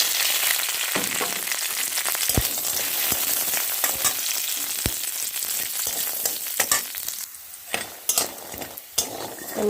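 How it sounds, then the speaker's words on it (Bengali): Lentil dumplings (bori) fry in oil in a pan with a steady crackling sizzle, broken by occasional sharp clicks and scrapes of a spatula turning them, close and fairly loud with no talking. "এবার আমি ডালের বড়িগুলো ভেজে নেব।"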